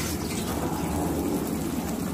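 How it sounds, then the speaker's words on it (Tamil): Water is poured into a pot of rice in a home kitchen, a steady close gushing stream filling the vessel without pause for about two seconds. "3 டம்ளர் தண்ணி ஊற்றிக்கிறேன்"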